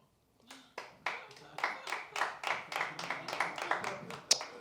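Audience applause at an open music session, starting after a brief pause and building into steady, fairly loud clapping from a crowd that carries on for several seconds.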